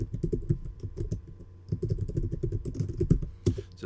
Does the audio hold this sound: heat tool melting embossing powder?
no